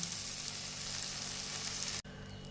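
Tadka spices frying in a pan for a Punjabi potato sabzi: a steady, close, bright sizzle of hot oil that runs on and then cuts off abruptly near the end, with no talking.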